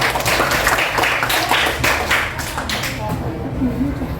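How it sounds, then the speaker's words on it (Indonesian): Classroom applause as students clap together, a dense patter of many hands that is loud at first, then thins and fades, with a voice speaking underneath toward the end. "Berikan tepuk tangan ke Dendi ya."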